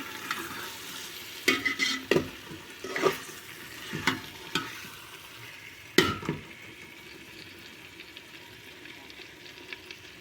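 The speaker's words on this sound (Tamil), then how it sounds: "நல்லா எண்ணெயிலே வேகட்டும்" Biryani ingredients fry in oil in a pan with a constant sizzle, broken by several scraping stirs that come in bursts, then settling to a steady crackle.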